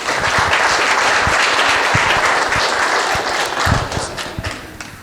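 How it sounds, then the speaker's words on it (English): Audience clapping at a book launch event for Success By Association; dense, loud, sustained applause fills the room steadily from start to finish with no speech. "Clap for him, please."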